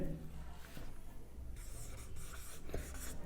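Soft scratching and rubbing strokes of natural numbers being written on a board during a math lesson, faint and intermittent in short bursts.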